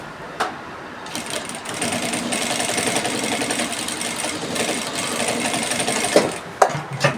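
A sewing machine runs top stitching along a side pocket, a continuous fast mechanical whirr for several seconds between short stops and clicks.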